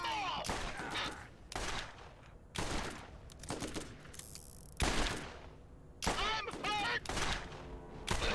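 Rapid bursts of high fire-rate gunfire in the Borderlands video game, several loud volleys with short gaps between them, mixed with game effects and brief voices.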